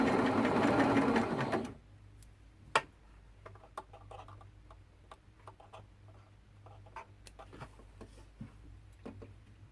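A domestic sewing machine chain-pieces quilt units, stitching in one loud, steady whirring run up close, then stopping and leaving only faint scattered clicks and taps.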